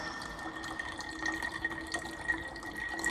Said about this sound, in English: Why am I pouring my glass into another glass, you say?